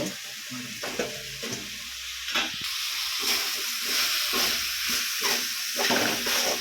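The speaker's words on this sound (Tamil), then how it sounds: "முள்ளங்கி போட்டு வதக்குறேன்." Radish sautéing in oil in a pan, a steady close sizzle broken by repeated scraping stirs of the spoon that come in quick, irregular strokes.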